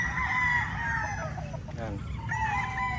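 Gilmore Cross gamefowl roosters crow loudly and close by, the long cock-a-doodle-doo calls rising over a steady low background rumble, with a second crow starting near the end.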